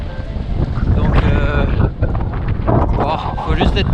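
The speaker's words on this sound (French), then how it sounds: "il y a quand même pas mal de vent" Strong wind buffeting the microphone during a winter road-cycling ride in stormy, drizzly weather, a loud, rumbling low roar that surges and dips, with someone speaking over it.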